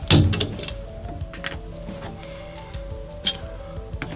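Metal clicks and taps as a punch pushes the pin out of an Ares Amoeba Striker airsoft gun to remove the cylinder, a few sharp close knocks with quieter ticks in between.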